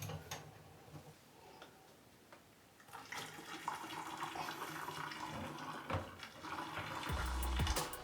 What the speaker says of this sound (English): I just grabbed it like this as I was pouring hot water